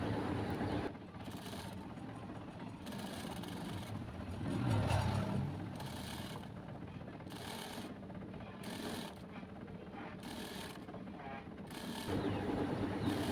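A sewing machine stitches a shirt seam in a run of rhythmic mechanical clatter bursts, separated by short pauses, close up and moderately quiet, with no talking.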